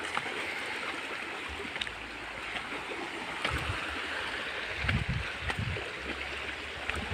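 Water running through a small canal-like channel, a soft, continuous gurgling flow at low level with occasional low-pitched splashes and sloshes, no voices.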